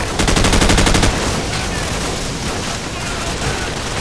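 An M4 rifle firing in Call of Duty 4: a loud, rapid automatic burst of close gunfire for about a second, then a lingering noisy tail.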